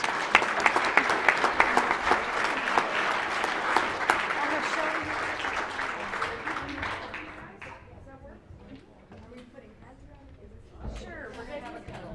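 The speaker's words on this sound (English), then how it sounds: "let's give them a round of applause for our leaders" An audience at a school awards ceremony applauds student leaders on stage: loud, dense clapping that fades after several seconds into scattered claps and crowd chatter.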